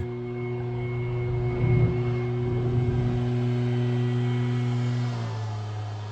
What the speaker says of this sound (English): This guy is over here blowing leaves right now.